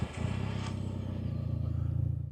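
A warm Japanese car engine starting and settling into a steady idle, with a low, even rumble that carries on unbroken close by.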